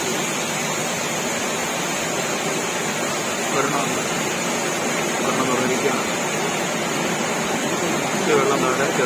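Water rushes from the opened Idukki dam near Cheruthoni town, a loud, steady broadband roar filling the whole stretch with no pauses, carrying no talk over it.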